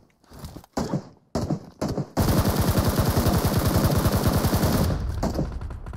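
Rapid automatic gunfire from PUBG Mobile shooting down a bot opens after a few scattered clicks and thumps, then runs as a loud, steady burst for nearly three seconds before tapering into softer shots.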